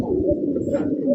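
Indian Bombay pigeons cooing nearby, a steady low murmuring coo that runs through the whole short stretch with no other sounds.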